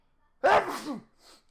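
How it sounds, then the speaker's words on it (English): A single sharp human sneeze, loud and close, bursting out with a brief wind-up and trailing off, followed by a faint breathy exhale. "I gotta sneeze."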